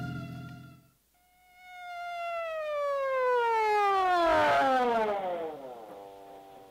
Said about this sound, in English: So why the siren?